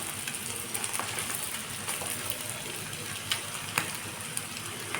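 Chow mein frying in a pan over a high flame gives a steady, close sizzling hiss with a few sharp pops and crackles scattered through it.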